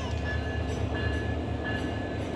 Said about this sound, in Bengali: এই দেখুন কত সুন্দর ইঞ্জিনটা কিন্তু চলে যাচ্ছে